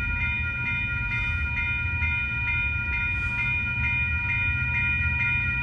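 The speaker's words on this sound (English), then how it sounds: "Here comes Coast Starlight train 11." An Amtrak Coast Starlight passenger train rumbles steadily past a level crossing at close range, a low continuous roar under bright ringing tones, with no voices.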